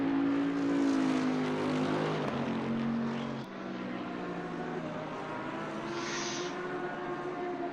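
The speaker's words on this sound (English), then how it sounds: "releases the pit lane speed limiter and gets back up onto the throttle" A Bentley race car pulls out of the pit lane during a four-hour race at Barcelona, its engine droning in a strong, tonal whine that shifts pitch, dips briefly midway, then holds a steady, loud note.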